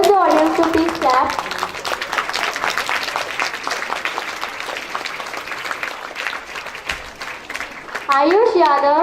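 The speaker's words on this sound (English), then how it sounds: "I request the audience to please clap" An audience claps steadily at a school investiture ceremony, honouring class 10 toppers. The dense, sustained applause fills the middle of the moment, while a voice speaks over a microphone at the start and again at the end.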